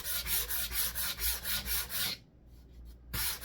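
Rhythmic hand sanding along the edges of a drywall crack-repair patch, back-and-forth rasping strokes close up and steady, pausing briefly before resuming.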